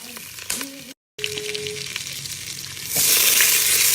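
Butter sizzles in a pan, a frying hiss that swells sharply louder after a brief cut, with a short voice near the start.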